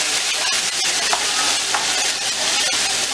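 Canned tomatoes, garlic and spices fry in a pan with a loud, dense, continuous sizzle, close up, with a few faint stirring scrapes and no talking.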